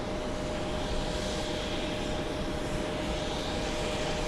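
An Etihad Boeing 787 Dreamliner at JFK produces a constant, dense engine roar at moderate level, unbroken and without voices.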